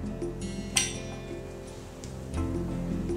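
A Hardy Taupo fly fishing reel's spool dropping onto its axle gives one sharp, close metallic clink, followed by faint handling noise in a quiet room.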